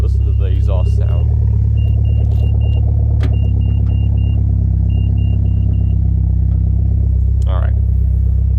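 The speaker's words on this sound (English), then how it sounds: "listen to the exhaust sound." A car's exhaust idles in a deep, steady low rumble close by, with faint beeps and a couple of short voices over the drone.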